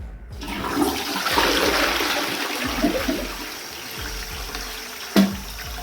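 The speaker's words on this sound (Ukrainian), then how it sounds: "Перевіряю, чи працює збив." A newly installed toilet flushes with a rushing gush of water that settles into a steady refilling hiss, ending with a brief clunk.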